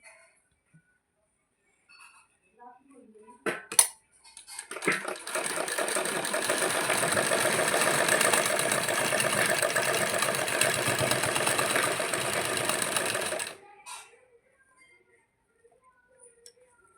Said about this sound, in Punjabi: ਇਸ ਤਰ੍ਹਾਂ ਅਸੀਂ ਪੂਰੀ ਸਲਾਈ ਕੰਪਲੀਟ ਕਰਾਂਗੇ